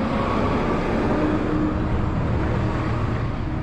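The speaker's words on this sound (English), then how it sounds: "All that loud noise because of the truck." A truck passes close by with a loud, steady roar that fills the whole stretch and never fades, heard outdoors alongside a new zero-turn mower.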